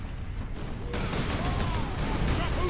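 Enemy bolt-weapon fire in Warhammer 40k: Space Marine, a dense, continuous burst of gunfire opening up at fairly close range after a quieter first second, loud and sustained with no talk over it.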